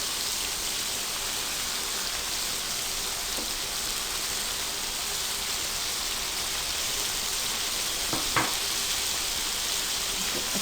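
Spicy tawa chicken frying on a griddle gives a steady, moderate sizzle with faint rain-like crackle and a couple of brief clinks, and no voices.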